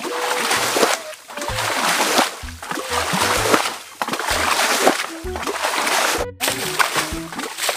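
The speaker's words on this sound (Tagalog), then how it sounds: "Agos din na ang tubig na sa dulo eh." Water splashes and sloshes steadily up close, with rhythmic churning bursts and low thuds throughout.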